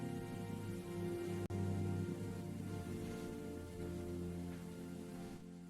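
Steady rain falls through a night, a soft continuous patter with a constant low hum underneath and one brief click.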